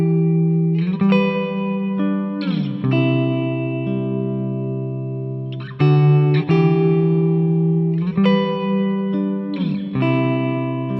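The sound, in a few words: guitar through TC Electronic Hall of Fame reverb pedal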